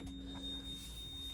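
Steady high electronic warning tone from a Carthago Chic 5.8XL motorhome signalling that the entry step is still extended, a continuous beep sounding alone with low engine-like rumble beneath.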